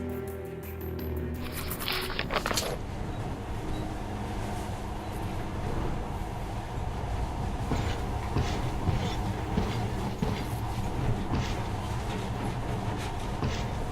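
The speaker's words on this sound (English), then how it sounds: "In the past, trains were ordinary things, but now, this monorail seems magic, doesn't it?" A monorail train in the video game Metro: Last Light runs with a steady rumbling rail roar and faint clicking, continuous and fairly close throughout, with a brief sharp rustle near the start and no talk.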